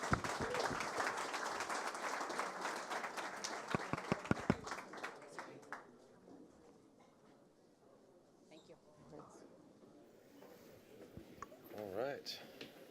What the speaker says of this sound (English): A royal round of applause for everyone,